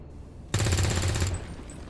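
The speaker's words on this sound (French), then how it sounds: "J'ai tiré dans le vide." A single rapid burst of automatic gunfire from the XCOM 2 video game, loud and close, rattling for under a second before a faint ringing tail.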